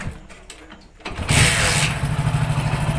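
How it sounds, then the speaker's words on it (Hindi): Hero Passion Pro motorcycle being started, a quiet rattle before the engine catches and settles into a loud, steady idle heard close by, with no talk. "अभी पहले मैं आपको बाइक स्टार्ट कर देता हूँ इसका"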